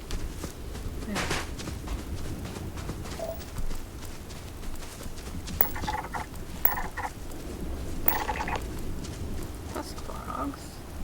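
Frogs croak in a Starfield game world, a faint, irregular background chorus with scattered footstep-like clops and soft rustling, with no talk.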